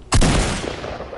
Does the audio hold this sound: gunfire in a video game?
yes